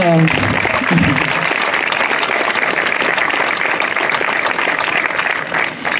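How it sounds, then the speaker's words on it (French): Applause from an audience at Isola 2000 for local shopkeepers, a dense continuous burst of clapping starting at once and sustained throughout, with a brief voice at the very start. "on peut les applaudir"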